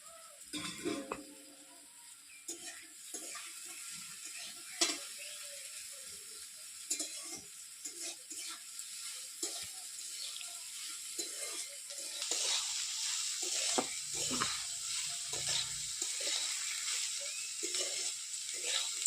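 Green beans stir-fry for a homemade veg paneer chowmein, a faint sizzle under scattered clinks and scrapes of a spatula against the pan, with the frying growing louder toward the end.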